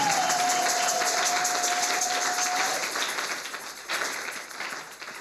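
Church congregation applauding at a Sunday service, a steady dense wash of clapping that fades slightly toward the end, with a thin sustained tone running through the first few seconds.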